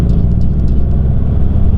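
A 2012 Volkswagen Jetta GLI drives along a scenic road, its engine and road noise forming a steady, loud low rumble heard from inside the cabin with no talking.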